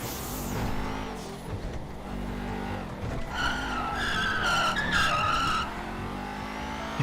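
A Nissan GT-R R35 sports car in GTA V skids with a loud, sustained tire squeal over a revving engine, the screech peaking midway before easing off.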